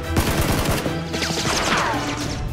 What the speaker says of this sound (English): Suddenly, gunshots are heard killing the remaining henchmen.